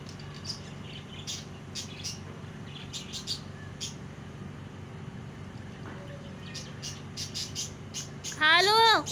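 Outdoor bird calls from an eagle and a crow while they feed, scattered chirps through a steady ambient hum, with a louder, closer call rising near the end.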